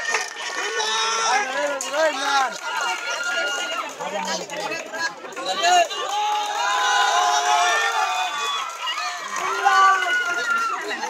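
A school crowd at a prize-giving cheers and shouts, with children's voices whooping over loud, steady chatter that swells and dips for about eleven seconds.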